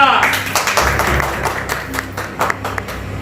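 Audience applause in a hall during a Punjabi stage play about Sardar Udham Singh, a sustained clatter of many hands, fairly close and loud, with a voice speaking over it.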